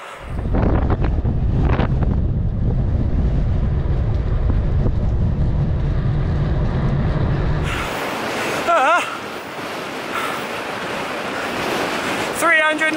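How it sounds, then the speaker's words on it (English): Strong side wind buffeting a cyclist's microphone on a ride, a heavy low rumbling roar for the first several seconds, then lighter gusty wind noise with brief rattles and scrapes, no voices heard. "We've now got a side wind."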